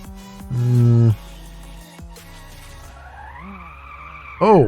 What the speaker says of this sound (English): Oh, I just spun out by using my brakes.